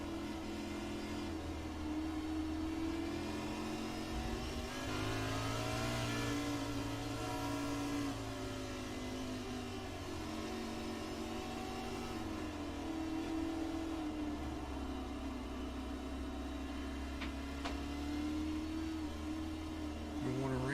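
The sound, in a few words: Ford race car engine in a cockpit view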